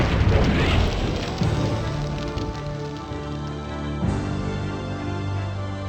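Fuel towers blowing up in the mech strategy game MechCommander, a loud rumbling blast that fades into crackling debris, then a second boom with a sustained low roar.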